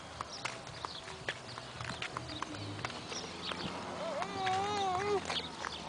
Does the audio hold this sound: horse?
yes